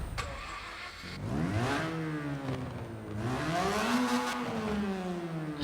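A Mazda RX3 with a rotary engine in the racing game Forza Horizon 4 fires up and revs, the whining engine note climbing and falling in pitch across several loud, sustained sweeps with no talking.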